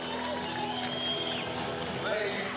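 A steady wash of crowd noise rises from spectators at the Königssee bobsleigh run during a 4-man World Cup heat, heard continuously beneath a commentator's voice.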